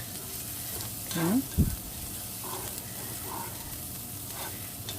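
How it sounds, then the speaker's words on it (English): Garlic and onions sauté in a pan for sausage and bean jambalaya, giving a soft, steady sizzle with a brief stir and a short spoken word partway through. "We'll let that saute for just a minute or two"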